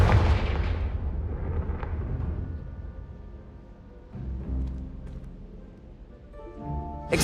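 A Confringo blasting spell in Hogwarts Legacy, a heavy booming explosion that decays into a rumbling tail, then a second softer blast and tonal spell effects.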